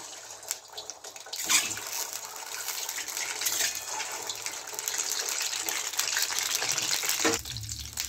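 Eggs go into hot mustard oil and fry with a loud, continuous sizzle close by. A sharp crackle flares as they hit the pan, then the hiss settles and holds steady.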